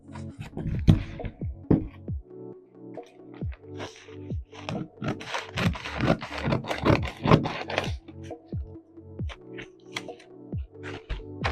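Scissors cutting fabric for a bandless straight skirt, a run of crisp snipping and scraping strokes in an irregular rhythm, close and moderately loud.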